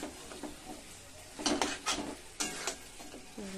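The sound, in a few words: onion frying and being stirred with chicken in a pan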